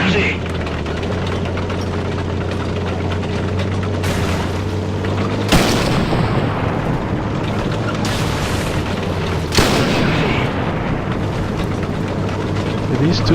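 Heavy tank cannon shots in the War Thunder video game, two loud booming blasts a few seconds apart over a constant engine rumble, with speech running beneath.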